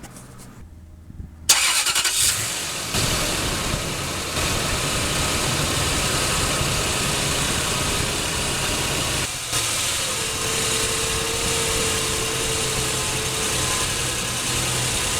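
A 2000-2006 Toyota Tundra pickup with a worn steering rack bushing cranks and starts after a short crank, then settles into a steady, loud, close idle that runs to the end without talk.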